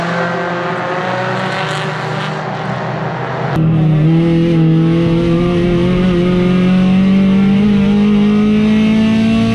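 A race car with a clutch problem revs hard, a loud sustained engine drone that climbs in pitch and jumps to a higher, louder whine partway through, close and continuous with no talk.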